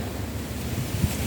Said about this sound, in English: Oh, this wind is really bad.